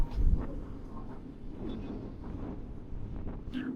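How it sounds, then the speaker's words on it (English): Wind buffets the microphone outdoors on a windy evening by the sea, a steady low rumble with gusty swells and no talk. "It's very windy out here today too"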